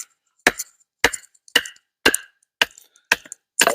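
Seven sharp chops from a Grohman number 4 survival knife striking wood, evenly spaced about half a second apart, close and crisp with brief woody rattles after each blow and no talk.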